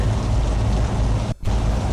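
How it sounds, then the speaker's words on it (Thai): Heavy rain in the Truckers of Europe 3 driving game pours as a loud, dense, continuous hiss that drops out for a split second near the end, with no voices. "กราฟิกวิ่งงานตอนฝนตกครับ"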